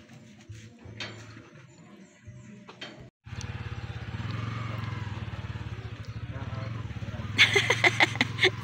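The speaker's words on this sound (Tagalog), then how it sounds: "Isang motor pala yung gagamitin nila." A motorcycle engine idles with a steady low rumble, starting up after a short pause and running continuously nearby, with a burst of clattering and rattling near the end; a voice talks in the background.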